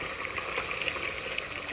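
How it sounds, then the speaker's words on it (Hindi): A pressure cooker cooks tomatoes and masala with a steady, close hiss and soft bubbling, with no pauses or breaks. "कुकर चलाऊंगी थोड़ी सी देर ताकि ये सारी चीज़ें ना गल जाएँ"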